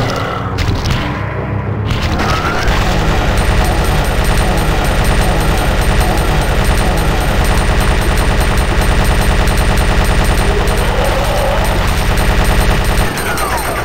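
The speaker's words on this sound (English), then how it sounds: "let's see how well the Gatling gun works against it" Continuous rapid Gatling gun fire in the video game Resident Evil 2, loud and unbroken for many seconds after a brief start, then cutting off abruptly.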